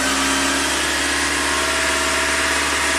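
Steady car engine running at a raised 2,500 RPM, a continuous, loud, even drone with no variation, close by and without talk.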